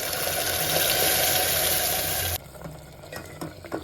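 Masala paste for egg curry frying in hot oil, a loud, dense sizzle for over two seconds that drops abruptly to a quieter crackle with faint clinks.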